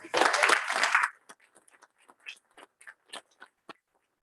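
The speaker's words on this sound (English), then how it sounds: "If we could give all of those students a round of applause, please." Audience at a 2021 Wisconsin South Central Conference Top 10 student honors event giving a round of applause; a burst of crowd clapping lasting about a second, then thinning out to scattered single claps.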